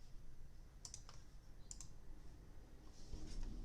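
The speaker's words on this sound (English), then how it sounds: "I'm going to power it down by clicking the button right here" Mouse clicks on a software interface button while powering down a storage controller, a few sharp, quiet clicks in close succession over faint background hum.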